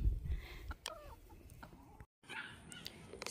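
Chickens cluck softly nearby in short, scattered calls, with a brief moment of silence partway through.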